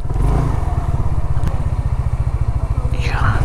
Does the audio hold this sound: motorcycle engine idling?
yes